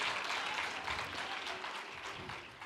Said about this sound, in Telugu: చప్పట్లు గట్టి కొట్టి దేవుని స్తుతించు.